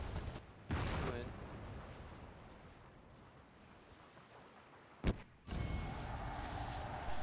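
Heavy booming gunfire and cannon blasts from Total War: Shogun 2 Fall of the Samurai, with loud bursts near the start and around five seconds over a constant rumbling battle din.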